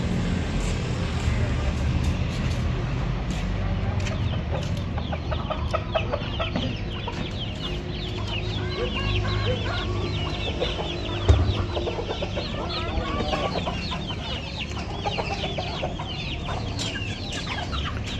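Backyard chickens cluck repeatedly, with hens and a rooster in a home flock, busy overlapping calls close by over a rustling outdoor background with a person speaking at times.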